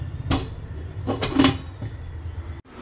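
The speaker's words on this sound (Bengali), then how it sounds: "এবার আমি ঢাকা দিয়ে সিদ্ধ হতে দেব।" A lid set onto a cooking pot while a thin papaya fish curry is being made, giving a few close metallic clanks and clatters in a home kitchen.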